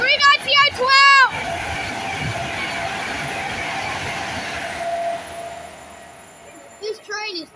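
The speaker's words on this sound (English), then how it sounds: "here comes a 390 at full speed" A Class 390 train passes at full speed, producing a sustained roar and rumble of rolling stock through the middle of the clip, with people's voices before and after it.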